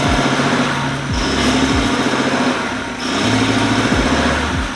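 A Porsche 964 engine idles steadily and close by, a low rhythmic rumble with slight rises and dips in pitch.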